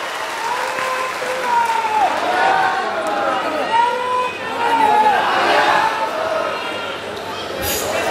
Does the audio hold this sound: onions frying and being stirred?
no